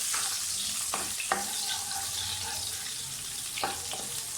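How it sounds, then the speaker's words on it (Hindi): Onions sauté in a pan for a lamb curry, giving a continuous close sizzle broken by a few brief clinks and scrapes of stirring. "इसमें प्याज डालें जो हमने दरमियानी काट के रखी हुई है, इसको सौते करें"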